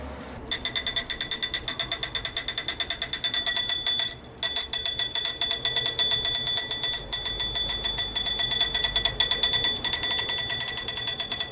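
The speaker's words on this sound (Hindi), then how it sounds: "घर की बिजली की घंटी जैसी श्रवणीय आवाज आती है" A rapid, continuous electric bell, battery-powered and set on a metal box, rings loudly with a metallic buzzing rattle, briefly stopping once before resuming and ringing on steadily.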